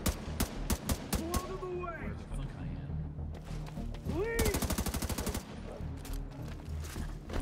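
Gunfire in The Division 2 video game, with sharp single shots early, then a rapid automatic burst, mixed with other game sounds and voices talking.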